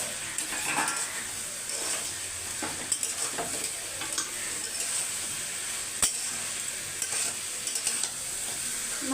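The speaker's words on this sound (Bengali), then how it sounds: "মাছের মাথা আমি এর সাথে ভালো করে ভেজে নিলাম।" Katla fish heads fry and get stirred in a pan with fried onion, tomato, ginger and garlic, a low steady sizzle broken by scattered spatula scrapes and metal clinks against the pan, close by and without speech.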